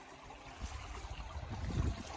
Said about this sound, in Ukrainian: струмок у Вест Дауні, який ви зараз бачите перед собою